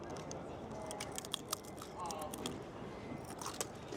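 Crunchy bites into crispy fried shrimp with the shell still on, eaten with crackers at a Tokyo market, giving a few sharp close crackles and crunches over a soft, busy background.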